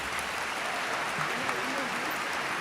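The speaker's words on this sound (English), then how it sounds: "Let's give the Cypress-Fairbanks Mariachi Ensemble a big round of applause." An audience applauds the Cypress-Fairbanks Mariachi Ensemble, a school district student band, at a luncheon, with a steady wash of clapping and some voices mixed in.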